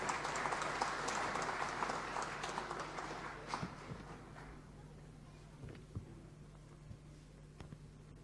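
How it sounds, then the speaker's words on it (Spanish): Audience applause for a theology faculty dean at a Saturday church gathering, a broad wash of clapping that starts full and gradually thins and fades over several seconds, with a low steady hum underneath. "Vamos a darle un fuerte aplauso, por favor"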